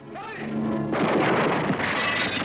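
A gunshot in a Sherlock Holmes film hits abruptly at about one second and leaves a loud, broad rumbling roar that lingers to the end, right after a brief stretch with a voice and musical tones.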